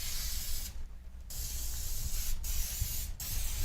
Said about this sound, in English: I'm going to spray it lightly with this pan baking spray